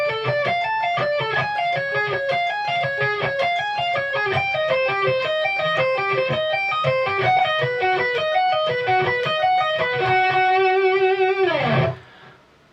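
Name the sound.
distorted electric guitar sweep picking lick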